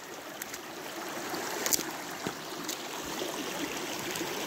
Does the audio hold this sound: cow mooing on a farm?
no